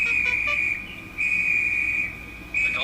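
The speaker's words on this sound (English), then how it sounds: "The guard blew his whistle till he had no more breath and waved his flag till his arms ached, but Henry still stayed in the tunnel" Train guard blowing a whistle in a storybook railway scene, two long shrill steady blasts with a short pause between them, loud and close, each followed by a softer trailing tone.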